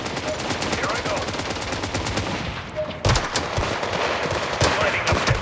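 Rapid gunfire in a video game, with dense bursts of automatic shots and sharp single cracks, loud and continuous, sometimes under a speaking voice.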